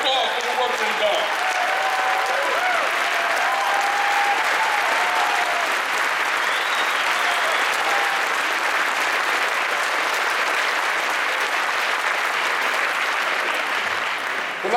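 Sustained, loud applause from a large crowd at a Montana political fundraising dinner, a dense uniform roar of clapping lasting the full stretch, with faint voices mixed in.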